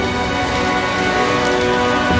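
Rain falls steadily in the background as a dense, even patter with no breaks or voices over it.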